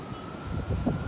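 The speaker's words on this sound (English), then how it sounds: "It's really windy out, guys." Steady wind buffeting a microphone at the Philadelphia Zoo, a low rumbling roar that swells slightly toward the end, with no voices.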